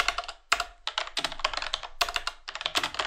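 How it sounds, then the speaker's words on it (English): Someone types quickly on a computer keyboard during a Roblox game, close-up clicking keystrokes in rapid bursts separated by brief pauses, with no voices over it. "Oh, my typing is just on point."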